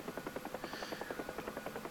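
The rotor of a UH-1H Huey helicopter in the DCS flight simulator beats in a steady, rapid thump, soft and even, with a faint turbine whine underneath and no one talking.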